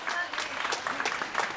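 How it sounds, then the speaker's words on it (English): A crowd on a cruise ship at sea applauds a woman, dense clapping filling the moment with voices and chatter mixed in throughout. "Give her a round of applause"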